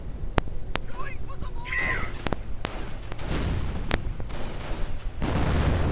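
Sturmhaubitze shells and gunfire exploding across a cemetery in a 1v1 World War II strategy game match, sharp repeated booms and shots scattered among battle noise while a commentator talks over it.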